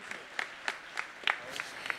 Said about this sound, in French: Je vous demande encore de les applaudir très fort